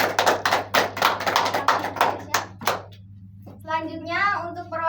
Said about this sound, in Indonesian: beri tepuk tangan untuk Jesya